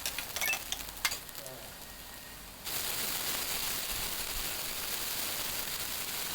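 Chopped ginger and garlic drop into hot oil and burst into a sudden loud, steady sizzle partway through, after a few quieter clinks and rustles at the start, close and sustained to the end.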